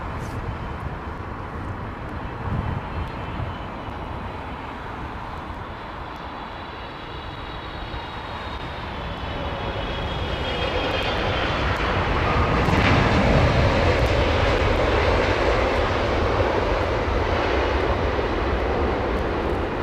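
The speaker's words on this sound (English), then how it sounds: "these engines here, even when they're at idle like that" Jet airliner engines at idle give a continuous broad roar with a faint high whine, growing noticeably louder partway through and holding steady, close by outdoors.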